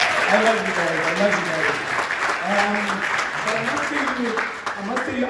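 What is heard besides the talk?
audience applause at an awards ceremony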